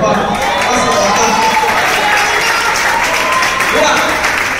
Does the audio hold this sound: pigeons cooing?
no